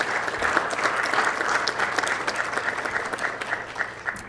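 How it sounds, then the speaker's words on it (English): Applause in a city mayor and council meeting room: a moderate group claps steadily for about four seconds, with the claps distinct and close, then thins slightly near the end. "So let's give a round of applause for National Safe Digging Month."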